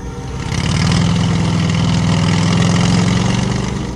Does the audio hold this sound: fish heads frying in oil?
no